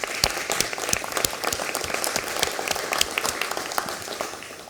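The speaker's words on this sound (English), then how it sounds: "A round of applause for where they need to go." Audience applause at an industry breakfast event, a steady dense patter of many hands clapping throughout at moderate volume with no talk over it.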